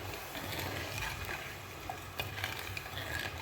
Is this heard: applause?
no